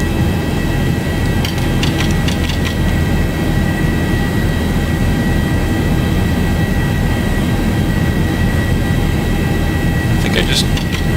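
Boeing 737 jet engines roar steadily during a climb in the X-Plane flight simulator, a loud, constant broadband drone with a few brief clicks near the start and end.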